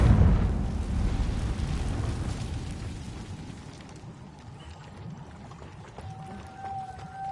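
A Confringo blasting spell from Hogwarts Legacy erupts in a loud, rushing burst that decays into a long, rumbling crackle, fading over several seconds with a faint tone near the end.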